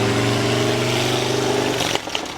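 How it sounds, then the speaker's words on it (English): A motorcycle engine drones loudly nearby as it passes, a steady harmonic buzz that fades and trails off near the end. "Sorry, there's a motorcycle. I wanted to let it pass."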